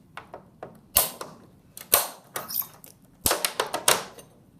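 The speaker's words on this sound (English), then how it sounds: "We're going to take our torque wrench, onto the tip and turn it till it clicks 2 times." A torque wrench is turned on a dental handpiece tip until it clicks, giving a run of sharp, close snapping clicks and ticks, several separate louder snaps among softer ones, with no talking.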